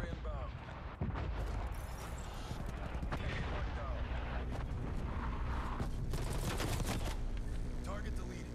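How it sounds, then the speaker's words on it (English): An artillery strike in Call of Duty Cold War brings a loud run of booming blasts and crackling gunfire, dense and continuous across the whole stretch, with game voices mixed in. "Artillery inbound."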